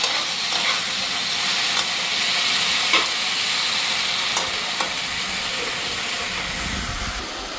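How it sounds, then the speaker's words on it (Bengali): Okra sizzles steadily in hot oil in a home kitchen pan, with fish oil added to the fry. A dense, even hiss continues throughout with a few faint clicks of stirring. "মাছের তেল একটু আনছিল ওই ভেন্ডি ভাজার মধ্যে মাছের তেলটা দিয়ে দেবো"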